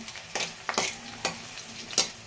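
Sliced onions frying in oil just starting to colour, short bursts of sizzle as a spoon stirs them, with several scraping strokes, close up, no voices.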